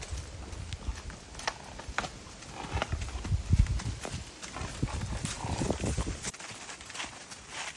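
A Foxtrotter horse on a trail ride, its hooves clip-clopping in a steady walking rhythm close by, with the occasional soft snort.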